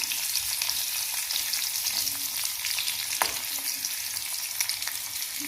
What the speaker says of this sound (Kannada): ಎಣ್ಣೆನೂ ಬಿಸಿ ಆಗೈತಿ. ಈಗ ಉಳ್ಳಾಗಡ್ಡೆ ಹಾಕ್ತೀನಿ.